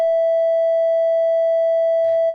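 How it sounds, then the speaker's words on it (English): A Massive X software synthesizer plays a loud, steady, pure sine tone with faint aliasing harmonics above it. The tone holds for about two seconds before a brief noisy blip and a sudden cutoff. "that's supposed to be a sine wave. And we have all those harmonics there."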